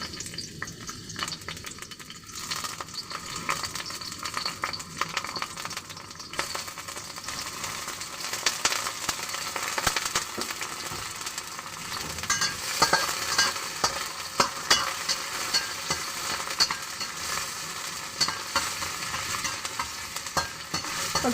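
Garlic fries in a hot pan while a utensil stirs it, a loud, continuous crackling sizzle close up with scraping stir strokes running throughout, louder and denser after the first couple of seconds.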